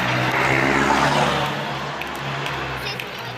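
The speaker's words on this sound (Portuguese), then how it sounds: "Vocês viram esses carros ficam atrapalhando o meu vídeo." Cars pass on a street where someone is roller skating, a loud rushing swell that eases into a lower steady traffic hum.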